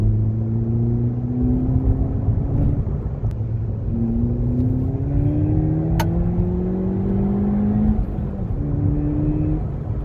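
A Ford Fiesta ST engine with a sound symposer hums steadily and rises in pitch through the gears, a continuous close-up drone with smooth upward sweeps and no talking.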